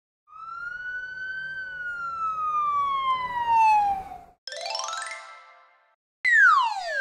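A cartoonish police car siren in a children's counting song: a loud gliding wail slides downward, then two short bursts of rising and falling tones follow, with clear pauses between them and no voices.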